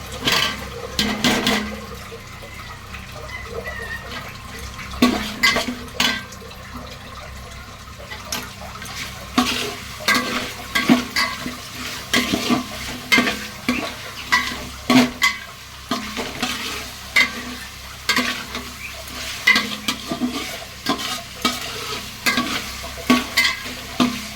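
Mutton pieces go into a pan of cooked-down spiced masala for a mutton biryani, frying with a steady sizzle while a spoon scrapes and stirs in repeated bursts, close and clear with no talking.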